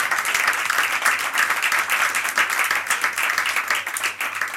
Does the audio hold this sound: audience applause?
yes